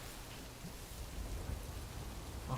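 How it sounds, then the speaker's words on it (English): Steady rain with a low rumble of thunder in the video game Death Stranding, a dense, even wash of sound heard alone at low volume. "Let's get out of the rain."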